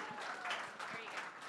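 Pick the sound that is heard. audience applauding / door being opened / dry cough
audience applauding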